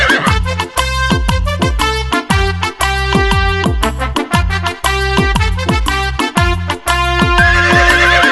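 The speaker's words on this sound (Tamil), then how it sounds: "புத்தன் குதிரை காந்தகம்" A horse, Kanthaka the Buddha's horse, neighs and whinnies loudly in repeated rhythmic bursts, set against strongly rhythmic music with a regular beat throughout.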